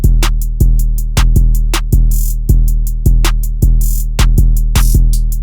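Trap drum loop programmed in FL Studio for a song: booming 808 kicks under rapid, crisp hi-hat rolls and sharp snare or clap hits, repeating in a tight, loud, steady pattern with no voices.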